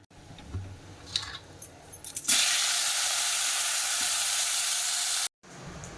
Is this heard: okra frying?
yes